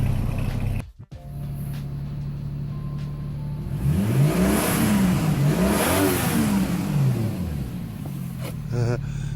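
A Toyota Soarer MZ21 engine revs hard from a steady idle, the pitch sweeping up and down through several throttle blips while water is blown out of the exhaust; loud and close throughout, with no talk.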